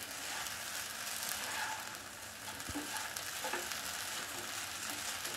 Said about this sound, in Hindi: इसको अच्छे से मिला देती हूँ।